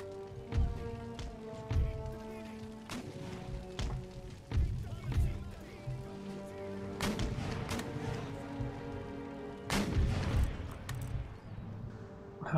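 Howitzer artillery in a Napoleonic-era battle in Empire: Total War booms repeatedly at irregular intervals, several heavy thuds spread across the stretch with lighter impacts and crackle between them, over a steady game soundscape.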